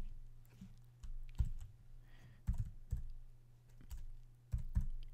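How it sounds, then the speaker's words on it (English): Typing on a computer keyboard while entering iOS code, with scattered key clicks and a few heavier taps over a steady low hum, close and fairly quiet with no talk. "we're going to type"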